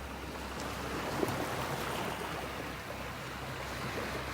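Steady ocean surf washing onto a beach in North Naples, Florida, a continuous broadband roar with gentle swells and a low wind rumble, no voices.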